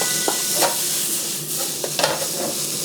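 Onion stir-frying in a pan for an eggplant rice bowl, a steady sizzle with a few scraping stirs of the utensil at intervals, close and alone with no voices.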